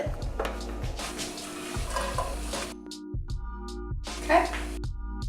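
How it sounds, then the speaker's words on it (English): Mushrooms, zucchini, onion and garlic sauteing on high heat, an even sizzle broken by repeated utensil scrapes and stirs against the pan, with a person talking over parts of it. "we're going to saute it on high and let that get to work"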